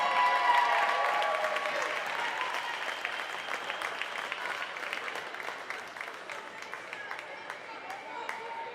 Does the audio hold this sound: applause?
yes